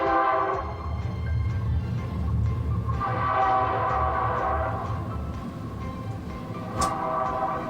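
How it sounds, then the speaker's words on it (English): A long freight train rolls through downtown, its horn blaring in sustained blasts over a low rumble of cars passing at moderate distance. "That's a long train."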